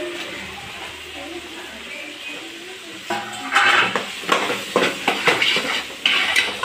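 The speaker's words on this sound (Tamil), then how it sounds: "உருளைக்கிழங்கு நல்லா வதக்கி விட்டுக்கணும்." Potatoes are sautéed in a pan for chicken kulambu: a quiet low sizzle at first, then a run of metallic spatula clanks and scraping stirs against the pan in the second half.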